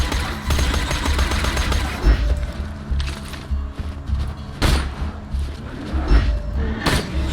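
Gunfire at enemies in Borderlands 2 comes as rapid, continuous automatic shots early on, then scattered sharp bangs and impact bursts over a busy game soundscape, loud and close.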